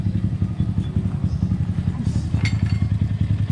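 A Honda Vario scooter fitted with Suzuki Nex brake pads revs hard on a test ride, its engine note loud, rough and pulsing, with some clatter and a few thumps near the mic.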